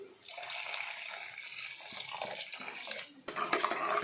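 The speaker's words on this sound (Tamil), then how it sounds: "இது வேகிற அளவுக்கு தண்ணியும் ஊற்றிக்கலாம்." Water pours steadily into a pot for idli sambar with a continuous splashing rush, briefly easing then resuming with a few clinks of metal near the end.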